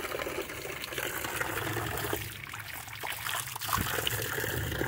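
Cold mountain water trickles and splashes steadily at a hillside work site, a continuous close, dense wash of running water with no talk.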